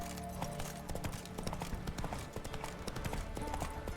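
Horse hooves galloping in the video game The Witcher 3: Wild Hunt; a quick, continuous drumming of hoofbeats mixed with game music and ambience, fairly quiet and steady throughout.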